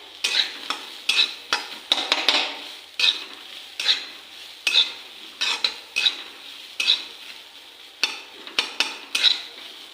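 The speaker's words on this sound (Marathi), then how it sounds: "आपली कढई गरम झालेली आहे आपण जी बारीक चिरून घेतलेले कांदे होते दोन ती यामध्ये आपण टाकून घ्यायचे आहेत आणि व्यवस्थित असं लालसर कांदा भाजून द्यायचं आहे" Finely chopped onions roast in a hot kadai before any oil is added, with a spatula scraping in a brisk, repeated rhythm over a faint, dry crackle, close and clear.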